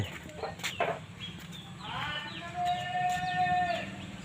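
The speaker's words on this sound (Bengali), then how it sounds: "মুরগিগুলো আছে" Farmyard chickens cluck and call in the background with a few brief knocks and rustles nearby, some calls drawn out and moderately loud, the whole scene fairly distant.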